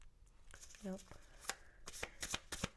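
Oracle animal spirit cards being shuffled by hand, a series of quick riffling and snapping bursts, close and fairly soft, with a brief voiced sound in between.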